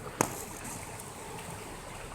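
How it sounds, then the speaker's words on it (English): Floodwater of Peach Creek churning fast beneath a bridge on its north side, a steady broadband rush with one brief knock near the start, heard close and alone without talk. "Look at the water churning."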